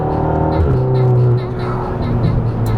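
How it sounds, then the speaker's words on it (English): A modified 2016 VW MK7 Golf R drives on back roads, its engine tone dropping sharply through a gear shift with a brief exhaust pop, then droning on steadily under the cabin. "I love the pop from the exhaust when you shift."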